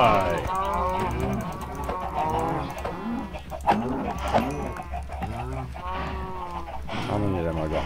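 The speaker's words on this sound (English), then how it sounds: "Die, cows, die!" Several Minecraft cows moo repeatedly in the video game, overlapping bovine calls over a few seconds, with chicken clucks mixed in and someone talking over them.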